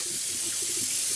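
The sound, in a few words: water running from a kitchen tap while washing a turkey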